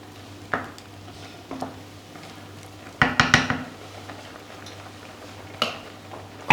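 Bacon mac and cheese turned in a pot gives scattered metallic clinks of a spoon against the pot, with a short burst of clattering stirring in the middle, over a quiet background hum.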